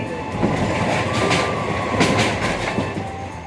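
A late-night suburban passenger train near Madhyamgram, bound for Dum Dum, rolls along with a steady rumble and rhythmic clacking of wheels over rail joints, heard close up from inside or beside the car.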